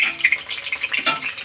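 Fish frying in hot oil in a home kitchen, a bright crackling sizzle with sharp spits and pops, close and fairly steady, with faint clinks of a pan or utensil and no talk.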